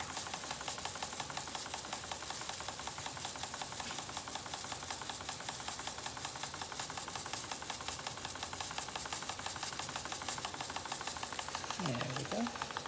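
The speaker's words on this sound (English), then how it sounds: "So you can see the engine going round and the light coming on." A running model steam mill engine driving a small generator and water pump, giving a faint, fast, steady mechanical chatter with continuous hiss, close and unbroken for the whole stretch.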